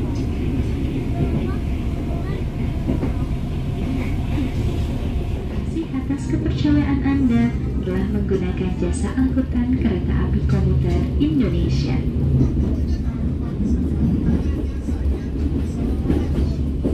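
An Indonesian economy-class passenger train rolls toward a station with a loud, steady rumble and rattling clatter of the carriages, while someone talks over the noise.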